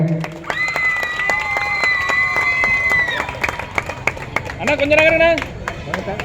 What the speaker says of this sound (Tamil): நல்ல கைத்தட்டல் கொடுங்க